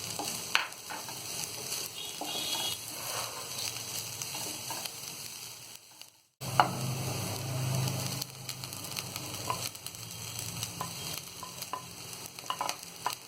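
Green chilies cooking in a pan while making pasta. A continuous close frying sizzle with light crackles cuts out briefly partway through, then returns louder and keeps hissing steadily with no speech.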